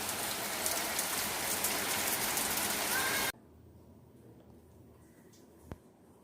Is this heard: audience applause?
no